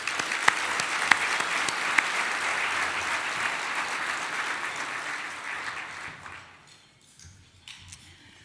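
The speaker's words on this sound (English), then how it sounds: "Please join me in applauding the achievements of the 2025 Fast 50 and emerging companies." Audience at the 2025 Fast 50 awards event applauds in a sustained burst of clapping from a large crowd that holds steady for about six seconds, then fades to scattered claps.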